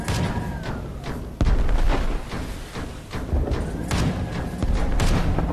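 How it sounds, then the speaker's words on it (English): An enemy tank firing on a mech in the flight game VTOL VR, heard as a series of heavy, booming thuds at irregular intervals over a constant engine-like rumble. "Oh no, he's shooting at us."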